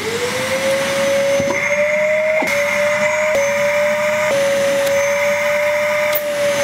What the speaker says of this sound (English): I will be forced to use a Hoover just as an extra precaution.